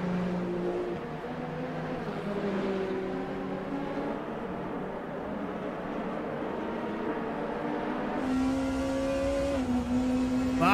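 Onboard Porsche race car engine in Le Mans Ultimate, a steady droning whine shifting through gears, climbing and dropping in pitch, with a sharper, louder rev near the end; no talk over it.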